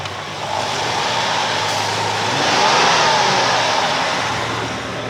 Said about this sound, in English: Now we got a smooth sounding Cadillac.